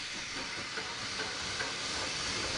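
A steam train hisses with a soft, continuous rush of steam, faint and steady without distinct beats, heard alone.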